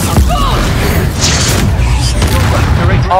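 A loud, close Confringo explosion spell from the video game Hogwarts Legacy, a dense booming blast filling the short moment amid other game effects.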